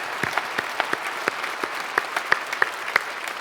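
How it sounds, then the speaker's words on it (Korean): Congregation at a special dawn church service claps together, a steady scattered patter of many hands, moderately loud and close, with no talking over it. "감사드리고 박수로 축복하겠습니다"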